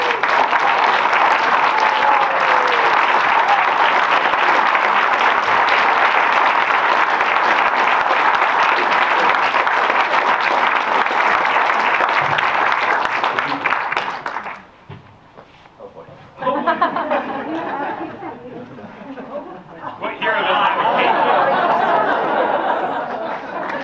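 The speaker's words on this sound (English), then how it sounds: "Please give a huge round of applause for our conservation hero, Brian Walker." Audience at the Common Ground 2021 event breaking into loud sustained applause for about fourteen seconds, followed by quieter clapping, scattered laughter and chatter that rise and fall.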